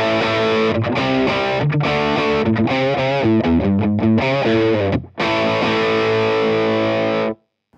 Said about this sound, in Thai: เดี๋ยวเรามาลองเสียงของ channel drive 1ก่อนนะครับ